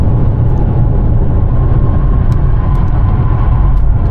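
Steady tyre roar and road rumble from a Mercedes C200 4Matic cornering fast, a dense, continuous low-heavy noise that stays constant and loud for the whole stretch with no voices over it.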